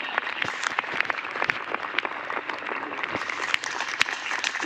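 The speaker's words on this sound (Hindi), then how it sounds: "एक जोरदार तालियां।" Sustained applause from an audience at a DXN business program, a dense steady wash of many hands clapping with scattered sharper claps throughout, loud and continuous with no voices over it.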